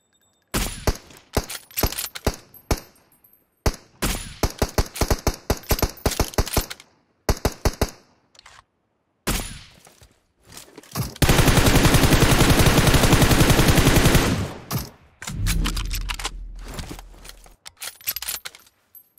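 Rapid bursts of laser rifle gunfire in PUBG Mobile, loud clusters of sharp shots separated by short gaps, with one long continuous stretch of fire near the middle and a few scattered single shots toward the end.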